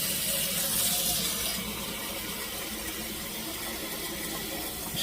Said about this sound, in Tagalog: Ngayon ay lagyan natin ng tubig.